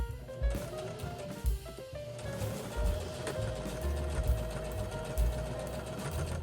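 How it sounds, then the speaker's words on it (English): A sewing machine runs a straight stitch along the edge of a zippered make-up bag, its steady mechanical whir and rhythmic needle chatter close and continuous, with brief pauses and bursts. "we're going to be sewing a straight stitch along this edge right here"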